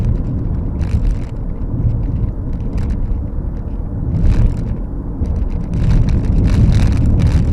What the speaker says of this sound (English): This car soaks up the bumps fairly well and you hardly notice them.